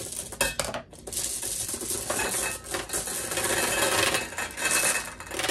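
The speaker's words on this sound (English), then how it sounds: "take two of these cake pans and open a bag of marbles in the middle and then set the one cake pan on top of the other." Glass marbles rattle and clatter between two stacked dollar-store cake pans as the pans are set and shifted. The jangling is close, continuous and loud, with no voices.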